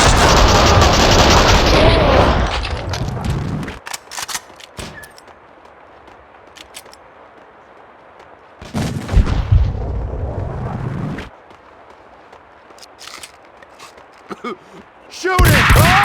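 Gunfire bursts from the video game Max Payne 2, arriving in loud dense volleys at the start, midway and at the end, with quieter rumbling action and scattered shots between them.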